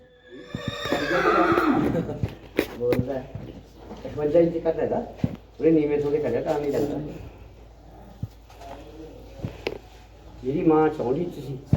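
A horse whinnies loudly several times, with rising and falling neighs spread through the clip, while a person talks intermittently between them.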